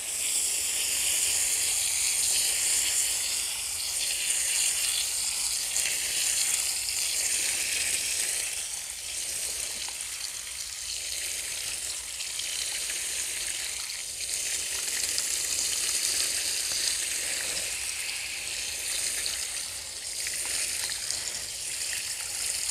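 A water hose sprays steadily onto a K&N cabin air filter, rinsing it with a continuous, close hiss and splash that holds at a constant level for over twenty seconds.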